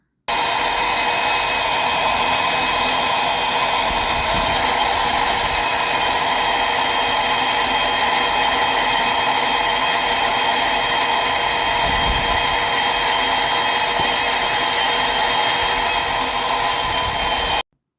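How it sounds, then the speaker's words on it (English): A Portaband portable band saw cuts steadily through a chrome steering cylinder rod from a Cat DP50 forklift, a loud, continuous whining grind that holds unbroken for the whole stretch, close up with no voices. "cut that chrome rod in half and make short work of this thing"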